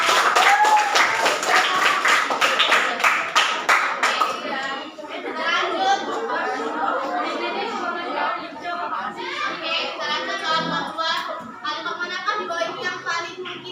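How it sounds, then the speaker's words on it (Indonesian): A burst of sharp, rapid clapping from a class of children opens the clip, followed by lively children's chatter and talking filling the rest. "Tepuk tangan dulu."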